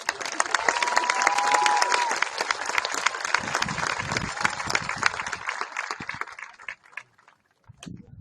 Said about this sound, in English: You can clap for these kids as they walk in.